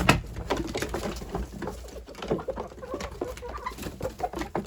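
Several chickens cluck and murmur continuously at close range as they are let out to feed scattered in troughs, with soft scratching and pattering underneath and no talking.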